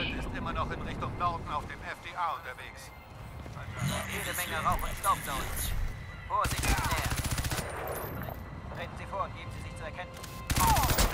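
Bursts of automatic gunfire in the shooter game Crysis 2, loud rattling volleys breaking out twice amid ongoing game sounds while a player talks over them.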